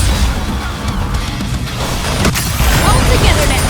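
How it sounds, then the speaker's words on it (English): Heavy cannon fire in the Nikke video game, dense crashing blasts and rumbling explosions layered over battle noise, loud and continuous throughout. "Aegis cannon, fire!"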